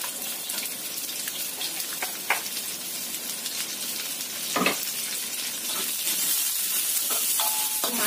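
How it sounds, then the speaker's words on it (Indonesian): Chopped onion sizzles and fries in a pan, a steady bright crackle with a few clinks and scrapes of stirring, including a louder scrape near the middle. "kita masukkan bawang bombay"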